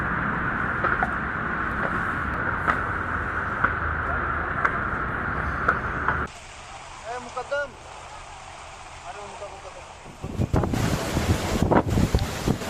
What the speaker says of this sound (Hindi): देखिए किस तरह से तेज हवाओं के साथ अभी भी बारिश का दौर जारी है।